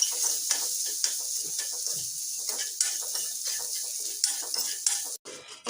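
Butter with black pepper lightly frying in a pan for a homemade stovetop veg pizza, giving a steady soft sizzle broken by frequent light clinks and scrapes of a utensil stirring, with a brief drop near the end.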